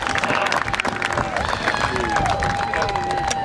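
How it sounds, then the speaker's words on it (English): A crowd applauds and cheers for a senior athlete at a senior recognition night, a dense, steady wash of clapping and voices that holds loud for the whole stretch, with babble mixed in. "Have a big round of applause for number"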